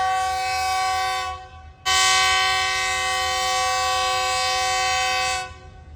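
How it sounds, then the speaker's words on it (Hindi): A GU40 locomotive hauling the Karachi Express sounds a loud, sustained horn as it departs the station, a steady chord-like blast that stops briefly and then resumes for several seconds before fading. "1 नंबर प्लेटफॉर्म की जगह 2 नंबर प्लेटफॉर्म से कराची एक्सप्रेस रवाना हो रही है लाहौर के लिए"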